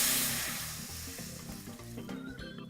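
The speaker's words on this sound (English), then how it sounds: "Add your coconut milk to a hot wok." Coconut milk hitting a hot wok for a Thai green chicken curry, a loud, steady sizzle and crackle of frying close by, with faint stirring scrapes and no talk.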